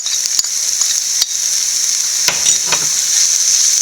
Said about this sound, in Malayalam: നമുക്ക് ആ ചതച്ച് വെച്ച ഇഞ്ചിയും വെളുത്തുള്ളി ഇട്ട് കൊടുക്കാം